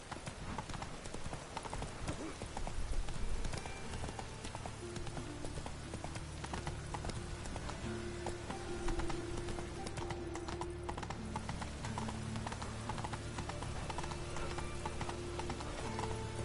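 Roach the horse galloping in The Witcher 3, a steady fast clip-clop of hooves throughout with rain-like weather ambience underneath and no talk.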